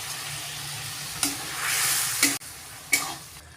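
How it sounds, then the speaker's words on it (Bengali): Fish pieces go into a boiling curry broth in a pan, setting off bursts of loud sizzling and bubbling with a few sharp clatters between steady hissing simmer. "ঝোল ফুটে গেছে, এখন দিয়ে দিচ্ছি মাছগুলো।"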